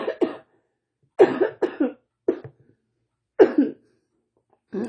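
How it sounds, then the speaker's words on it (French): A woman coughs in short, close bursts, several clusters of dry coughs separated by silent pauses. "Excusez-moi, j'ai la toux."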